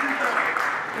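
Applause from an audience at a business-mentality talk in Baltimore: steady, dense clapping throughout a short moment, fairly distant and even in level, with voices mixed in underneath.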